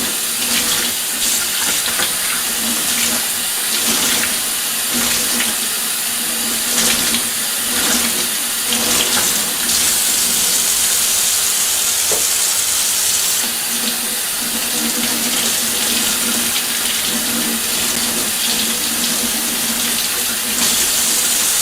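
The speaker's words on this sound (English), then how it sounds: "Actually, let me just rinse these off one more time." Water gushes steadily from a hose or tap to rinse off CF Moto ATV parts, loud and close, a continuous hiss and splash with no pauses throughout.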